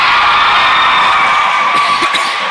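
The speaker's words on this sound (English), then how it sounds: "You hear the noise from the crowd." A dense, loud wall of crowd cheering and whooping fills a Riverdale versus Mariner basketball game, sustained roar with scattered shouts rising near the end.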